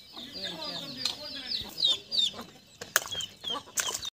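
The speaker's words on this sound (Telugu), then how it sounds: "కోళ్ళు కూడా వస్తున్నాయి" Chickens cluck and squawk nearby in a series of short irregular calls, some sharp and high, with brief wing flutters and occasional background voices.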